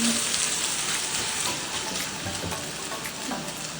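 Tocino, pineapple-cured sweet pork, frying in a pan until golden brown: a steady, dense sizzle that stays close and fairly loud for the whole stretch.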